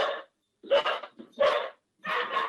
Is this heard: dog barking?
yes